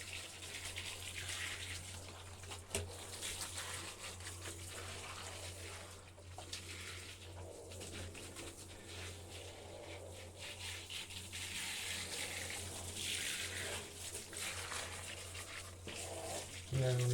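Steady stream of water from a bath tap or shower rinsing a chicken in a bathtub, running continuously at close range with a constant low hum beneath it and people talking over the flow.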